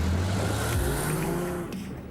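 A GT3 sports car drives on roads near Malaga, its engine a loud, steady drone that changes pitch once partway through and eases slightly near the end, with no talking.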